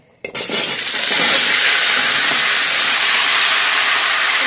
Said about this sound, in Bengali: এটা ভালোভাবে ভেজে নেব।